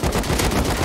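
Rapid bursts of automatic gunfire in the survival game Rust, a dense string of close, loud shots with no pauses and no talking.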